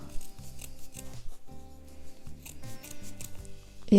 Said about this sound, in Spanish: solo la espumita le estoy cortando